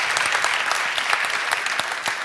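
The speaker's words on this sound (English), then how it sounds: "A warm applause again for Avid Fayaz." Audience applause at a TEDx Salong event at KTH, a steady wash of many hands clapping at close range with no talk over it.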